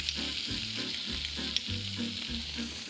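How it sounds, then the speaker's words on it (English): Shrimp searing with garlic in olive oil for shrimp saganaki with ouzo, a steady close sizzle with low stirring thuds and scraping repeating every half second or so, no voices. "And I want to sear the shrimp."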